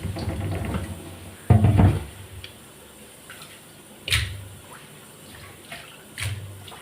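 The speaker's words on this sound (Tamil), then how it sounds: "பண்ணுறதுக்கு முன்னாடி பார்த்தீங்கன்னா நான் மீனை நல்லா வாஷ் பண்ணி எடுத்துக்கிறேன்." Fish rinsed under running water for a curry, with splashing bursts: a louder surge near the middle and shorter gushes later, over a steady trickle.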